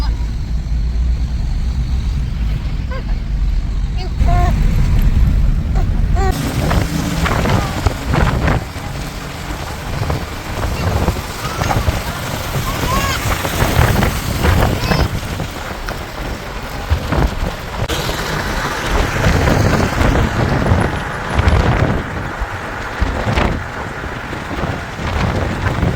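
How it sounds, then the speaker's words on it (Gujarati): A cool wind blows strongly and continuously for the whole stretch, a dense, rumbling rush with a hissy, rain-like texture and no clear talk. "કિશાનની કેવી મજા આવે છે ઠંડા ઠંડા પવનમાં."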